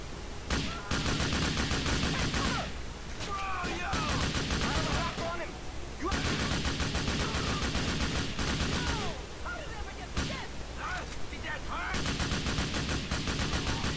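Sustained gunfire in the video game Grand Theft Auto IV, loud continuous bursts of automatic fire broken by a few short pauses, with voices speaking over parts of it.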